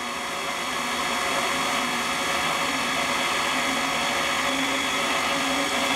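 An electric mixer runs on its stir setting while dry ingredients are mixed in for vegan lemon cupcakes. It gives a steady, loud, continuous whirring drone close by, with no talking.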